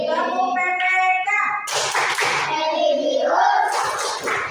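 A class rhythm of patterned clapping, the Tepuk PPK routine, with children's chanting voices over quick bursts of hand claps in a lively, close-up rhythm.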